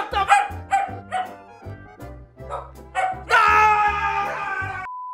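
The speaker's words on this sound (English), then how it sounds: "while the dogs are yelling at me" Several dogs barking at a person indoors, a rapid run of sharp loud barks and yips close by, ending in a long sustained howl-like whine.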